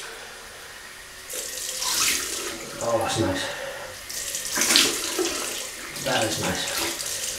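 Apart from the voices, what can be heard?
running tap water for cold rinse after shaving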